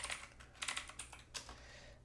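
Keys tapped on a computer keyboard while entering a LaTeX command, a few quick bursts of clicky keystrokes with short pauses between, close and fairly quiet.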